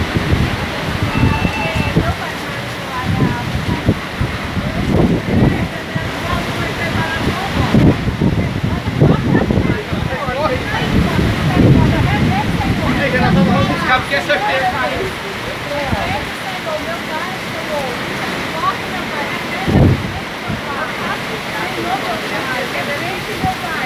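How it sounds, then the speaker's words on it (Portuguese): Heavy rain driven by strong wind in Salgueiro, a dense continuous roar of falling water with gusty buffeting across the microphone, loud and close throughout with some irregular thumps. "Chuva de vento nesse momento em Salgueiro."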